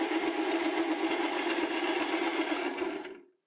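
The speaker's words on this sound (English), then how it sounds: "I'm now gonna cut a groove to relieve the threading tool" A metal lathe cuts a relief groove for a threading tool on a collet holder for an MT2 tailstock, giving a steady, loud whirring hum that runs unbroken for about three seconds and then cuts off to silence.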